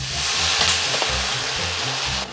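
Loud, steady sizzle as a little water is stirred into a hot pan of food seasoned with garlic, parsley, basil, oregano and tarragon, with a constant hissing roar and occasional scraping stir sounds, close up and with no talk.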